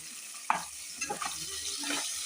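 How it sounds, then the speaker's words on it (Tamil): Tomatoes sautéing with salt in a pan for paruppu sadam, a soft continuous sizzle broken by a few short stirring scrapes, close and fairly quiet, with no talking. "உப்பு போட்டு வதக்கலாம்."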